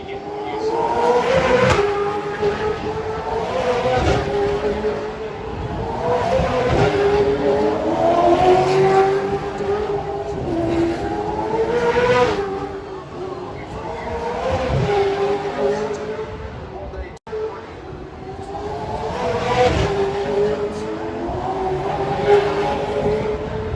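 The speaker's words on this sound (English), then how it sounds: "Now FP3 for Supercars is about to start." Supercars race cars lap the Newcastle 500 street circuit during practice, their engines roaring continuously and swelling and fading in repeated waves as cars pass at a moderate distance.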